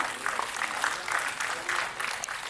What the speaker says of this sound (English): Let's welcome Mr. Kiran with a huge round of applause, ladies and gentlemen.